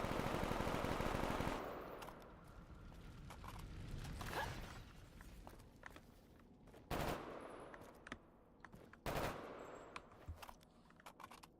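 M27 rifle gunfire in Call of Duty TranZit, with a dense burst of rapid fire at the start and then scattered single sharp shots among mechanical clatter, fairly faint overall with no talk.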